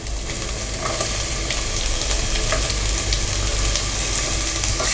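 Bay and curry leaves sizzle and crackle steadily in hot oil, a continuous frying hiss with occasional pops and stirring sounds.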